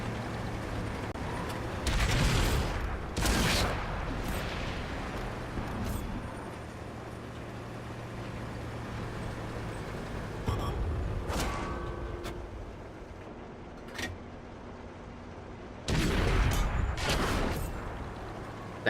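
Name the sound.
high explosive mortar shells firing in World of Tanks video game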